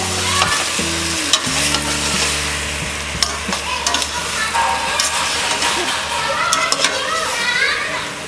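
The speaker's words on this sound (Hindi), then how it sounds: "हम इसे 2 मिनट तक फ्राई करेंगे।" Rice and potatoes for aloo pulao frying and being stirred in a pot, a steady sizzle under repeated scraping strokes of a spoon, with children's voices in the background.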